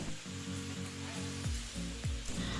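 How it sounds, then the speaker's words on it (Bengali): Ground spices being fried with onion, tomato and ginger-garlic paste for a crab curry, a low steady sizzle with a few soft stirring scrapes, close and fairly quiet. "সব গুঁড়ো মশলার সঙ্গে পেঁয়াজ টমেটো আদা রসুন বাটা মিশিয়ে কষাবো"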